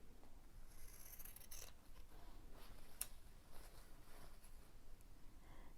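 Scissors snip along a dashed line through quilting fabric for a Dresden Plate block, a few soft close cuts with one sharper click among low room noise.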